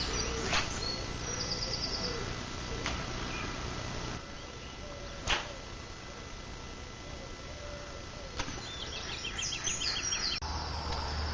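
Mixed birdsong with insect or cricket chirping drifts across a carp lake at dawn, faint and distant, with a few brief knocks and a fairly steady broadband background throughout.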